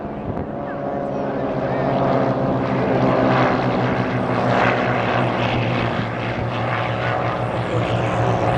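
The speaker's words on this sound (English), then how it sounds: "Right now you're seeing Kevin Coleman doing what we call a rudder turn or a pedal turn." A propeller airplane drones loudly and steadily overhead at an air show as it performs a flat rudder turn, the engine note holding an even, rich hum with a slight waver.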